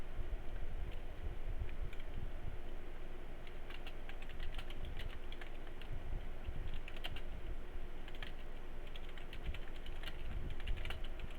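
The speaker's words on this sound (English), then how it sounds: "Sorry, I'm just typing it out." Steady close-up typing on a computer keyboard, dense clicky keystrokes running continuously with a low background hum, no talking.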